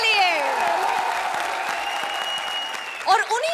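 A studio audience at a comedy show applauds steadily beneath a voice speaking over it, ending in a brief burst of voices.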